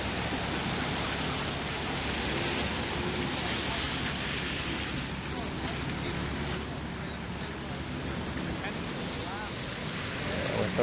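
Steady wind roars and buffets the microphone throughout a walk through the season's first snowfall on a Toronto street in December, with a broad continuous hiss and no clear pauses.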